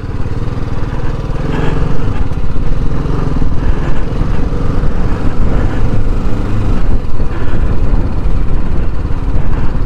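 A motorcycle on a ride out of Hyderabad gives a close, continuous engine drone with a pulsing, throbbing tone that holds steady the whole time, with no talking.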